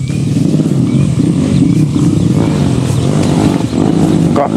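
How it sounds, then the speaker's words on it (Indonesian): A motocross bike engine revs nearby, a loud, steady droning roar filling the whole stretch with slight surges in pitch and no speech over it. "Kok kayak ada suara motor cross ya?"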